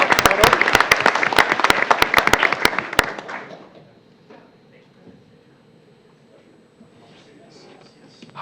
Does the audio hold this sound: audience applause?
yes